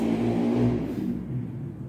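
A motorcycle passes outside a home, its mid-pitched engine a steady, fairly loud drone that eases off slightly toward the end, with no talking over it.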